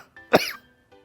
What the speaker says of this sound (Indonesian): Dia sering batuk